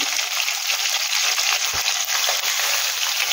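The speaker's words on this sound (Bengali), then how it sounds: "এইভাবে আমি মাছগুলো ভেজে নেব।" Pieces of bhetki fish fry in mustard oil with a loud, steady crackling sizzle, close up and continuous, with a faint thud partway through and no voices.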